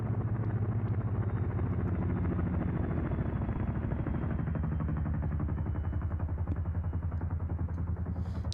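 Helicopter carrying infantry in a PvP video game match, a steady loud rotor thrum and engine drone running continuously without break.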